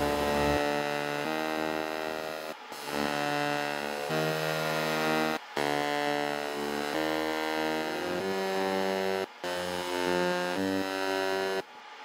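An EM Smart laser engraver works a test grid into mild steel, giving off steady humming, buzzing motor tones that shift pitch in stages and stop briefly between passes, close and continuous.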